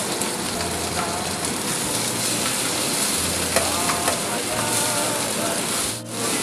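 Ginger, onion and tomato sauté in a pan for Ilocano pinakbet, making a dense, continuous hiss of frying with occasional utensil clicks and a low background hum.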